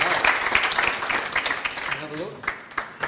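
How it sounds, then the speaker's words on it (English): An audience applauding a guest invited on stage at a farewell event, steady clapping with voices and cheers mixed in that gradually thins toward a few scattered claps. "have a big applause for Geert."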